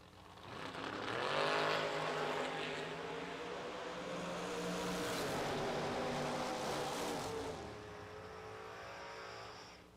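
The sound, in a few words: drag racing cars running a race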